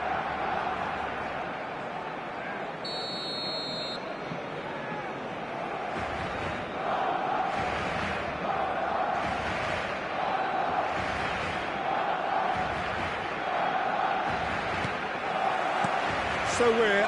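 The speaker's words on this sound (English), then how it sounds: "The stadium is full of noise and energy." Dense stadium crowd roar from an eFootball match before a Barcelona game, a steady wash of cheering and chanting throughout with a commentator's voice over it.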